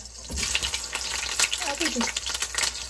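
Food frying in hot cooking oil crackles and spits with a loud, busy sizzle, sharp pops scattered throughout, with voices faintly present alongside.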